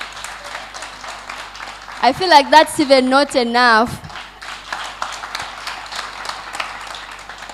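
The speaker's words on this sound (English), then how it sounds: "A round of applause" Audience applause at a women-in-fintech hackathon event, a dense patter of clapping running throughout, with a voice speaking over it and a brief burst of loud, tonal cheering or whooping in the middle.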